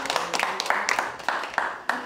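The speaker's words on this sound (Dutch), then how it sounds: "Applaus voor jezelf." Children give themselves a short round of clapping at a science and technology event, a few uneven bursts of claps, close and fairly light, lasting only a couple of seconds.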